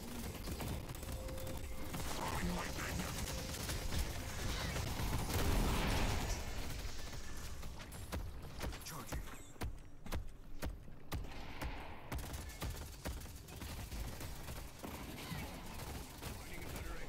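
Rapid bursts of video game gunfire crackle through a busy, dense mix of game effects and clatter, loud and continuous for most of the stretch with a brief thinning in the middle.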